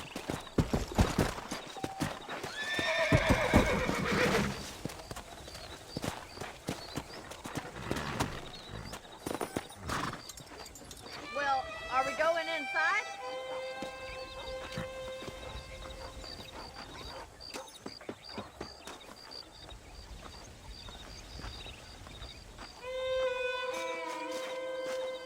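Horse hooves clopping along with a horse's whinny rising partway through, set against a rich outdoor ambience with no one talking, from the video game Red Dead Redemption.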